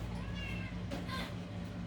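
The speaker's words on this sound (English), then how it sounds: "My cat." A pet cat meows a few times in a home kitchen during dessert making, short plaintive calls over a steady background hum.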